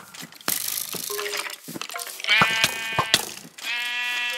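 Sheep in the Minecraft 1.19.2 video game bleat several times in short, clear, nasal calls, with game clicks and item pickup sounds between them, close and fairly loud.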